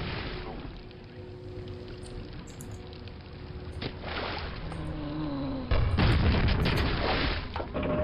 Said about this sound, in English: Guys explode.